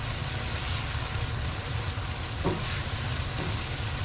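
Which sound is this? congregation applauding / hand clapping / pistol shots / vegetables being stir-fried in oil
vegetables being stir-fried in oil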